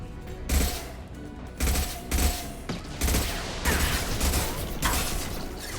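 Hacked turret firing in the Mass Effect 2 video game, repeated loud bursts of rapid sci-fi gunfire with short gaps and mechanical clatter between volleys, close and without voices.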